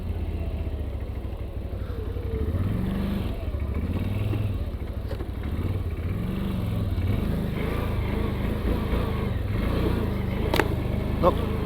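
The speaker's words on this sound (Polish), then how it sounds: "hamowanie silnikiem, nie? On sobie teraz hamuje." A low engine hums and rumbles steadily as a CFMOTO 1000 Gen3 ATV slows by engine braking on a trial track, its pitch wavering with light clatter, close by and continuous throughout.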